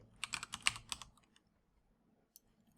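A quick run of clicky keystrokes on a computer keyboard, close and distinct, then stopping, with one last isolated key tap after a pause.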